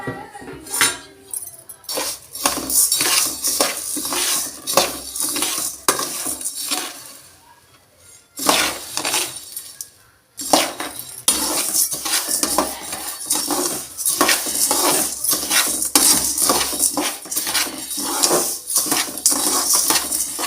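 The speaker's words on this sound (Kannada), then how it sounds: "ಬಾಣಲಿ ಬಿಸಿ ಆದ ನಂತರ ಸಿಮ್ಮಲ್ಲೇ ಚೆನ್ನಾಗಿ ಹುರಿಬೇಕು" Washed, dried rice is roasted and stirred in a hot pan over low heat, giving a steady stream of close scraping and metallic clinks from the utensil against the pan, with a brief pause midway.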